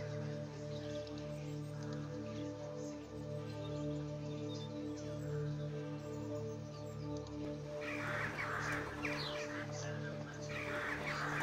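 Crows cawing in the video game EVE, scattered calls over a steady droning musical background, with a brighter rustling wash near the end.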